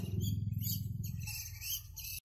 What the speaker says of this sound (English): Ceylon rufous babbler.